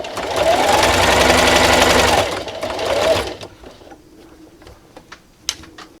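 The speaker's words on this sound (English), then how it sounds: "And then I'm going to sew up to my pin." Sewing machine stitching a T-shirt quilt, running in a fast steady buzz for about three seconds, then a short second burst before stopping, leaving quiet handling noises and small clicks.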